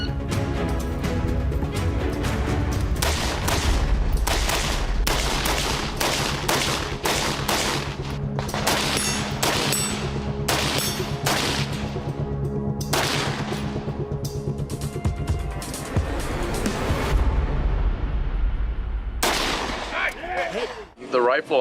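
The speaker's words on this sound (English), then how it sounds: "The rifle, I mean, it really doesn't have any movement at all." A rifle fitted with a muzzle brake fires a rapid string of loud, sharp shots outdoors, each crack followed by a brief ringing tail, then a short pause and more shots.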